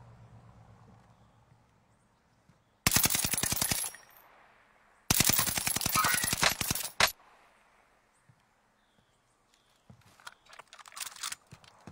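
Video game gunfire, two loud sustained bursts of rapid automatic shots in close succession, then quieter scattered shots and clatter toward the end, with long quiet gaps between.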